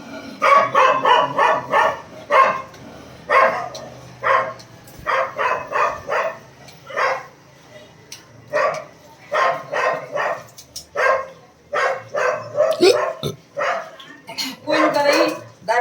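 Dogs bark repeatedly in quick bursts, several animals overlapping, loud and close, with short pauses between volleys and some whining yips.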